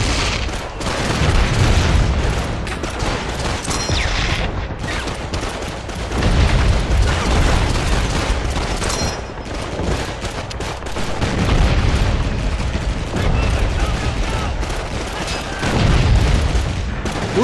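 Tank cannon blasts and explosions from a Call of Duty 2 battle, with a Sherman tank nearby. Heavy booms and steady rumbling gunfire keep up without a break. A strong low-end surge comes every few seconds, with faint talk mixed in.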